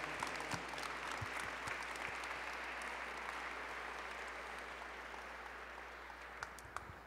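Faint, steady audience applause at an awards ceremony, a soft continuous patter heard from a distance with a few sharper claps standing out.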